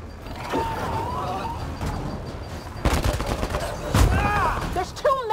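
Gunfire in the Mass Effect Andromeda game during a battle, with scattered sharp shots and bursts amid combat noise and a little voice in the background.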